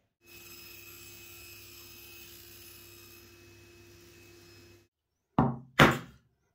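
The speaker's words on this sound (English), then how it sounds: "Then I just use a chisel to chop this off." Two sharp, loud chisel strikes chopping off a piece of laminate sheet for a cabinet top, quick separate hits close by after a steady background hum fades to silence.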